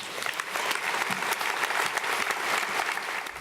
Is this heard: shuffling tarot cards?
no